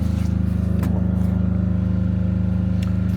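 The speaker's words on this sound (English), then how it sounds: "excuse the noise of the generator" Generator runs on an Irish homestead, a steady low droning hum holding constant and loud throughout, with a couple of faint clicks over the top.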